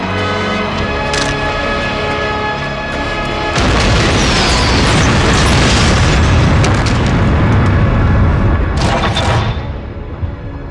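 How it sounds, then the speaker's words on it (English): A huge bomb explosion in an action movie roars in with a sustained, loud rumbling blast and crackling debris that lingers for several seconds, with no talk. "There's a bomb."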